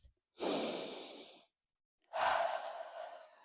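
Two deep breaths drawn close to a microphone, a long airy inhale followed after a short pause by a heavy breathy exhale, loud and near with no talk.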